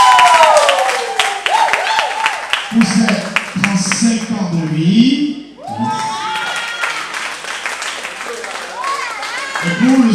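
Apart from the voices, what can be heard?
audience applauding at a concert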